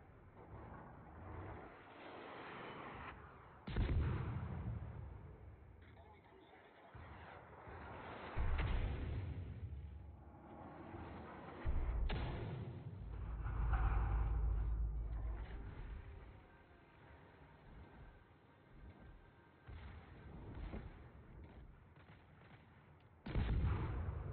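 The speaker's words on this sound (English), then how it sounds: "Wow, these guns fire so slow." Naval guns firing in a warship video game: a handful of heavy, booming shots spaced several seconds apart, each with a long rumbling tail, heard muffled and fairly distant over a steady low background.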